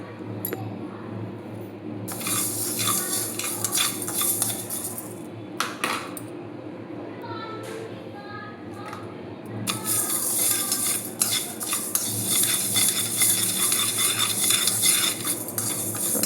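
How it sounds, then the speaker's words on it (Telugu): Moong dal dry-roasting in a pan, grains rattling and scraping under a stirring utensil with sharp metallic clinks, close by, in bursts with a brief quieter stretch midway and no talking. "ఫస్ట్ మనం పెసర్లు తీసుకున్నాం, ఒక హాఫ్ కప్ పెసర్లు తీసుకున్నాము. లైట్గా రోస్ట్ చేసుకోవాలి."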